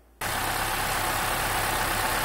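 A 2015 Honda CR-V engine, just repaired after a cam timing fault, starts and settles into a steady, even idle, close and fairly loud, with no voices.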